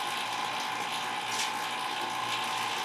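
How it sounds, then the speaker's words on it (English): Vacuum pump running on the AC system of a fourth-generation Mustang GT during compressor installation, a steady whirring mechanical drone with a continuous hum, close and constant with no talk. "I'm gonna go ahead and turn the pump back on"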